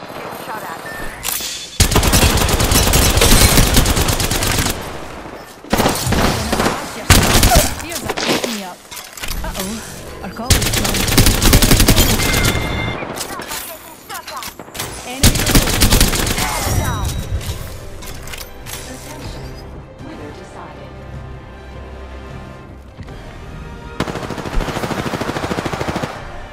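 Gunfire in Apex Legends during a ranked match: long, loud bursts of rapid automatic fire from close range, broken by short pauses, with scattered shots and clatter near the end.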